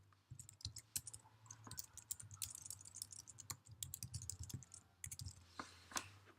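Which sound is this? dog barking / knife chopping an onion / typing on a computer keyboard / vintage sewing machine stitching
typing on a computer keyboard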